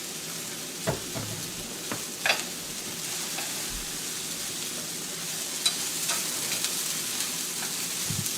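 Noodles with green onions stir-fried in a hot pan, a steady broadband sizzle with a few sharp scraping and tossing clatters at intervals, no talking.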